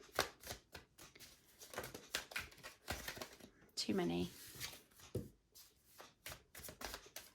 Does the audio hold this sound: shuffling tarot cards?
yes